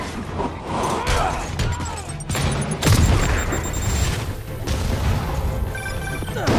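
Gunfire in the Spider-Man video game, a dense run of loud cracks and booms close by, mixed with crashes and impacts over a constant noisy background.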